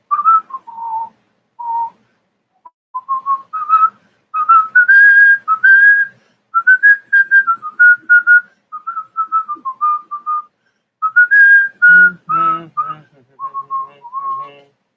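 A person whistles the marching tune When Johnny Comes Marching Home, slightly off key. The melody runs as a steady string of clear whistled notes with short breaths between phrases, close and fairly loud.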